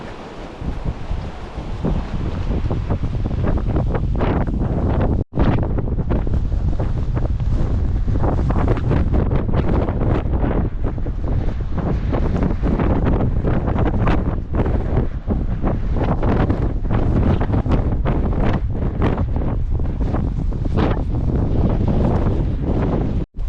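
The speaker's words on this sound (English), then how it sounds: "Getting out of the wind momentarily, maybe." Strong wind buffeting the microphone outdoors, a loud continuous rumbling roar that persists for the whole stretch with only momentary drops.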